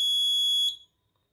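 A single sustained high-pitched electronic buzz from a microcontroller door lock, triggered by three wrong password entries, sounds for well over half a second, then cuts off abruptly, leaving near silence.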